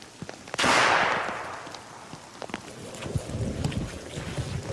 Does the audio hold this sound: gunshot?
yes